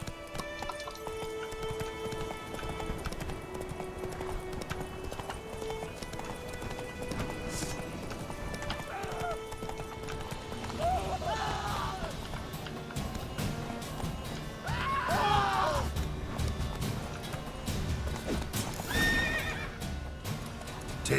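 Roach, a horse in the video game Witcher 3, gallops with steady clip-clop hoofbeats under game music and ambience, neighing and whinnying loudly several times, around the middle and again near the end.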